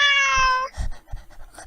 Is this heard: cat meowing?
yes